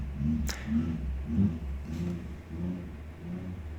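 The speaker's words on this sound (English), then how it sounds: "the engine revving out there" A car engine revs outside and off in the distance, rising and falling in repeated pulses of moderate loudness, with a couple of sharp clicks and no voices.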